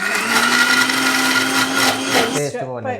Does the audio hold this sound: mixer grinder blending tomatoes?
yes